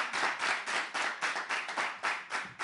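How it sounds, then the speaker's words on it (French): An audience claps for a slam poetry performer at a culture and reading event, a close, rhythmic run of roughly ten claps in near-unison beats at a steady pace. "On l'applaudit encore une fois."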